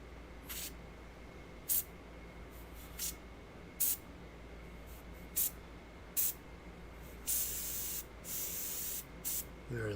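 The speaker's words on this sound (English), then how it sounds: "now I can spray the red on it." An airbrush or spray can applies red paint to a miniature in short hissing bursts, roughly one every second or two, ending in a longer steady spray; quiet and close.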